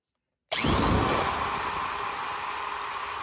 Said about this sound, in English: Today, we're going to be using our Craftsman 3/8 inch drill, vintage.